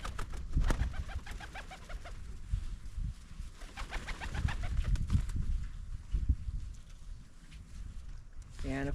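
Pigeons coo in low, soft repeated phrases close by, over a steady background of rustling and handling noise during gun-dog training.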